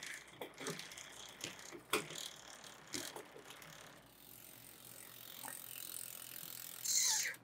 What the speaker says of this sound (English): this cable over here pulls on this derailleur, and that pulls it up through the gears